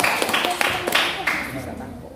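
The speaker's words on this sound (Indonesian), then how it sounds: "Berikan tepuk tangan ya." Brief scattered applause from an audience at a school quiz competition final, a few sharp claps and a short burst of clapping over and under speech, close and moderately loud.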